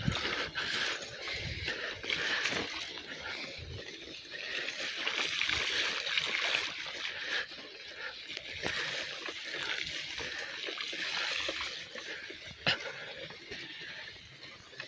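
Heavy rainwater rushes across a road like a river during a downpour, a steady broadband wash of flowing water with splashes throughout, fairly close and continuous.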